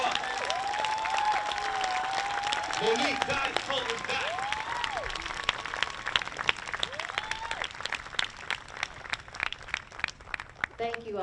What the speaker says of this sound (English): let's give her a big round of applause and bring her up